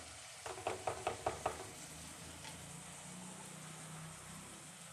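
Onions sautéing in a pan for a Kerala-style crab curry, a faint steady sizzle with a quick run of five light rhythmic taps of a utensil against the pan early on.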